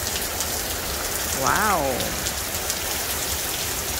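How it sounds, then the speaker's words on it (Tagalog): Steady heavy hurricane rain drums on a surface throughout, dense and hissing, with a brief exclaiming voice rising over it midway. "Kusuga sa ulan."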